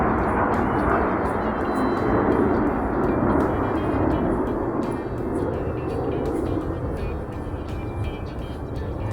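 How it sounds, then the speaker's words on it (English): A jet aircraft passes over wooded Umstead State Park as a loud, broad rumbling roar that fills the whole stretch, steady with a slight swell and fade. "one of the features of Umstead State Park is the pleasure of having jet noise very close by"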